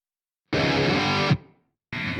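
Distorted electric guitar playing open strings from the intro riff of a song, a loud sustained chord-like burst that fades, then a second attack starting after a short gap; no talking.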